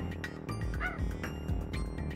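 Dog barking in the Crash Team Racing video game: a run of short, fairly faint yips and barks repeating in a quick rhythm over steady game music.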